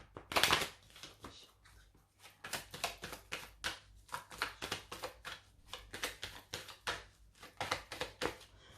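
Oracle cards shuffled for a tarot reading, a rapid series of crisp riffling and slapping bursts repeating steadily and close up, with no talking.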